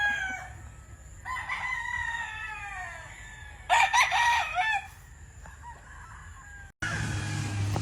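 Chickens on a farm at a poultry fair, with a rooster crowing several times and clucking hens, moderately near over a quiet background, ending in a brief louder burst of noise.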